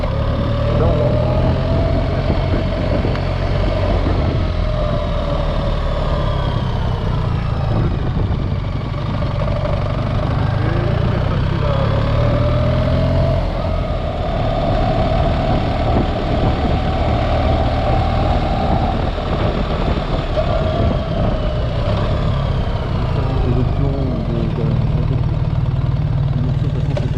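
A 2024 BMW R1300GS motorcycle with an automatic gearbox, ridden on the road: a steady, fairly loud engine drone with a rising, shifting pitch as it climbs through the revs, and wind rush underneath.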